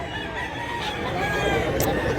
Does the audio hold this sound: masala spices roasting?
no